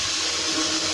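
Water runs from a sink tap during a plumbing test, a steady close hiss of flowing water that continues without a break.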